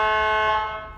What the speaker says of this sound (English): this aux 1 is your buzzer